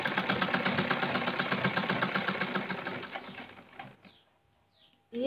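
A domestic sewing machine runs steadily while stitching, a loud, close rhythmic mechanical chatter that holds for about three seconds, then slows and stops. A brief click follows near the end.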